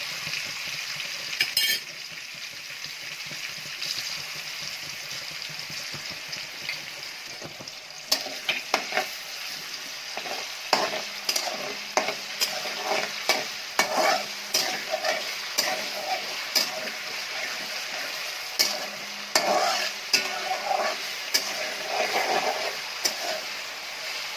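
Chicken pieces frying in hot oil give a steady close sizzle with crackling pops and occasional stirring clinks, growing busier about a third of the way in and continuing without any voices.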